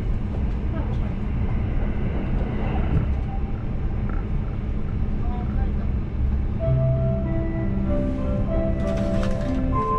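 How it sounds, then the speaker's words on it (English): A Kintetsu Limited Express train runs on the Kashihara and Kyoto lines, making a steady, loud rumble from inside the car, with a faint voice heard over it. "This is the Kintetsu Limited Express bound for Kyoto."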